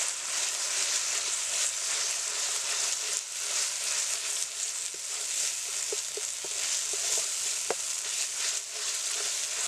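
Chilli paste, ginger and cumin paste, turmeric, salt and spices frying in oil for a Bengali pabda fish curry, a steady soft sizzle with occasional light scraping clicks of stirring.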